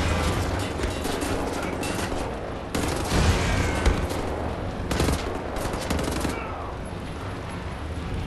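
Loud, continuous gunfire in Wolfenstein: The New Order, with rapid overlapping shots and a few heavier booms, runs throughout with faint voices underneath.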